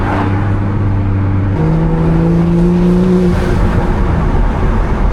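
A BMW B58-powered car making 500 wheel horsepower pulls under load from inside the cabin, its engine tone climbing and shifting through a gear change, loud and droning with intake whoosh.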